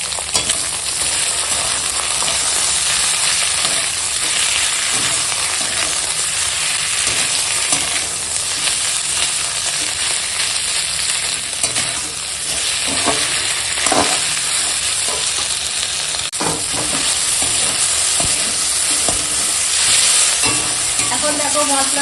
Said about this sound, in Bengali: জল ঝরিয়ে রাখা সয়াবিন দিয়ে একসঙ্গে সয়াবিনটা একটু কষিয়ে নেবো